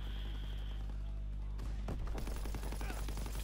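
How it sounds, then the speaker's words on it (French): Gunfire from a far-off shooter in a first-person shooter game, where a STG44 rifle is in play: a cluster of sharp cracks bursting out over a steady low hum, then scattered shots continuing. "Ah là là, il tire de loin en plus."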